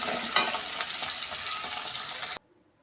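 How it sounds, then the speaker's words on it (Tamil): Diced tomato and green chili sizzle in a hot pan, a bright, close frying hiss with stirring scrapes that holds steady for about two seconds and then cuts off abruptly. "குட்டியாக கட் பண்ணி வச்ச ஒரு தக்காளி சேர்த்து வதக்கலாம்."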